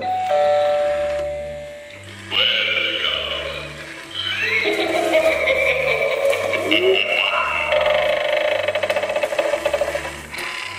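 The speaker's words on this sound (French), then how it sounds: "C'est la sonnette de la maison hantée" An eerie haunted-house Halloween doorbell sound effect plays, with creaking, ratcheting mechanical noises and spooky tones over a steady low pulsing beat.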